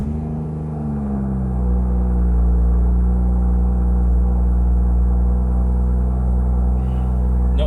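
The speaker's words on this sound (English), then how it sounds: "let's experience the cold start from in the car" A BMW M140i fitted with a Remus exhaust idles after a cold start, heard from inside the car with the windows open: a deep, steady droning rumble that rises slightly early on and holds loud and even.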